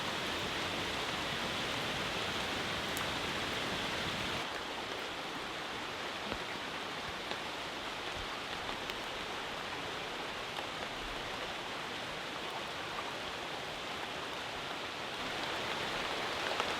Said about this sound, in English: But we're just taking cover while this downpour is happening.